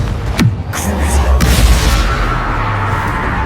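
The Confringo fire spell in Hogwarts Legacy bursts in a loud, close boom, with a second blast following and a rumbling tail fading out.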